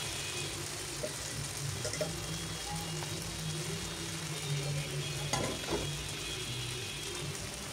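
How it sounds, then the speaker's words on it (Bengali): Chicken noodles sizzle and fry in a pan while being stirred, a steady crackling hiss with occasional scraping clicks from the utensil, close and moderately loud. "নুডলস দিয়ে এখন নাড়াচাড়া করে দিব।"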